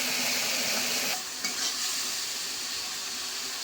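Spice masala with chilli powder, coriander, cumin and green chillies sizzles steadily in a pan while being stirred. The frying hiss is loud and continuous, briefly dipping partway through.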